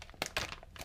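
A sealed zip-lock plastic bag holding paracord is pulled open close up, giving a few sharp crinkling and tearing bursts of plastic.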